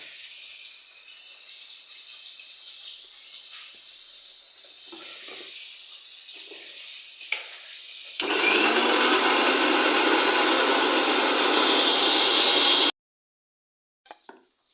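A kitchen mixer grinder whirs loudly and steadily for several seconds as it grinds ginger, cumin and green and ripe chillies into a paste for a fish curry, after a quieter stretch of background noise, then cuts off abruptly.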